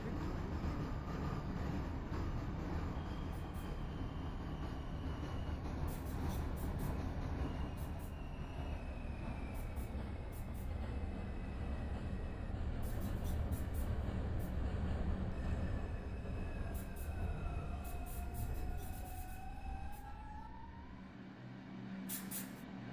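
Simulated New York City subway 1 train rumbling steadily along the rails in the OpenBVE train simulator, with a continuous loud roar, intermittent wheel squeals and rattles, and a rising-falling whine from the motors near the end.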